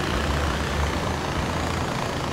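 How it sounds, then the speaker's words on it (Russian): Steady, dense roar of a helicopter engine and rotor in the video game Far Cry 4, loud and unbroken throughout with no other sounds. "Уже и коптер подготовили."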